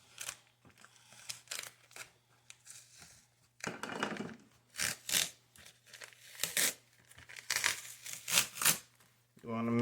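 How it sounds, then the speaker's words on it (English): Paper and tape being peeled off a wood piece prepared for etching, with close crinkling and tearing bursts spread irregularly, some quick and sharp, between quieter gaps. "make sure you don't rip it off too fast like that."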